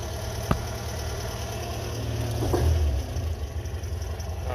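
A Pinzgauer engine idles at about 1,000 RPM, a steady low rumble with a faint mechanical hum, close and alone, with a brief click and a slight swell in the middle.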